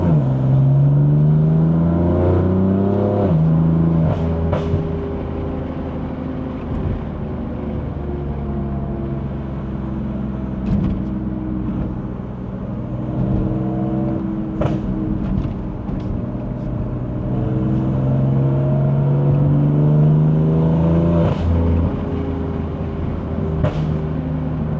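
Stage 2 tuned 2020 BMW M4 Competition exhaust on the move, a loud continuous engine drone rising and falling through gear changes, with occasional sharp pops and crackles standing out alone.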